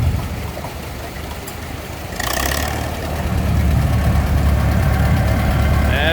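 Old gas tractor engine running steadily at an outdoor antique tractor show in Mid Michigan, a low continuous idle chug that grows slightly louder partway through, with a brief hiss and faint background voices.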